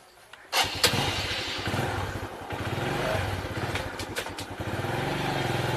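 A motorcycle engine cranks and catches, then settles into a steady, close rumbling idle with a few revs.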